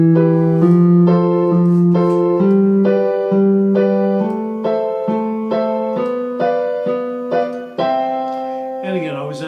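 Keyboard playing a folk-country pattern, left hand striking single root notes on beats one and three while right hand chords answer on two and four, a steady alternating bass-chord rhythm, clear and close with no talking.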